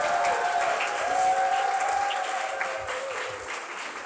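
Audience applause at a Latvian talk on family health, a steady, dense clapping from a live crowd that holds fairly even and fades slightly toward the end, with no voices over it.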